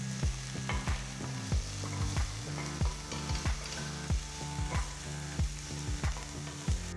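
Chopped onion, green chili, garlic and ginger sizzle in hot oil in a kadai, loud and close, with repeated sharp scrapes of a spatula stirring at a steady, uneven rhythm.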